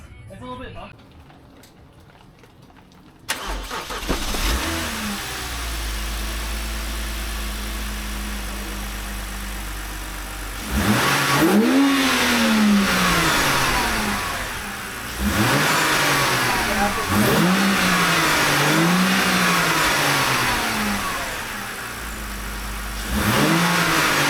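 BMW E90 328i inline-six fitted with a Turner axleback exhaust, starting up and then revved hard several times in loud repeated bursts, each swelling and falling back to a steady idle, with voices talking over it.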